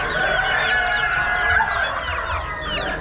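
Blue Andalusian chickens clucking at an Amish animal auction spring sale, amid a dense, continuous chatter of many other birds, fairly loud throughout with no talking.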